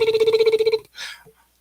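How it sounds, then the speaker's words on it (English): A telephone bell rings in a rapid trill for just under a second, loud and close, then stops, followed by a short breathy sound. "I think you need to answer the phone."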